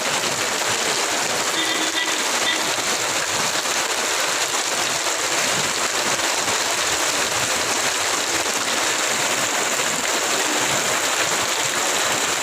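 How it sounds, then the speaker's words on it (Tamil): Heavy rain pouring steadily across Thanjavur and Thiruvarur districts, a loud, continuous broadband hiss of falling water with no break or voices over it. "தஞ்சாவூர், திருவாரூர் மாவட்டங்களில் ஒரு சில இடங்களில் காலை முதல் விட்டு கனமழை பெய்து வருகிறது"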